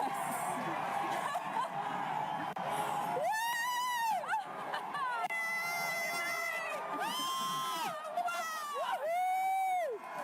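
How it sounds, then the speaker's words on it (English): Crowd at a solar eclipse counting down and cheering, with a swell of voices and rising whoops in bursts over several seconds, near and loud, with talk mixed in. "Wow, the crowd is counting down."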